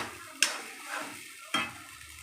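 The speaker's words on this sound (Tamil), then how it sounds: "நல்லா வதங்கிட்டு இருக்கு." Onion and tomato ground with kuzhambu chili powder sautés in a pan with a quiet, steady sizzle, broken by two sharp metallic clanks of a stirring spoon against the pan.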